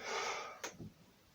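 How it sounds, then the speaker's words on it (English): A person exhales forcefully during a floor exercise routine, a breathy hiss that trails off, followed by a short sharp intake and a fainter puff; close and fairly quiet with no talking. "And we're breathing out."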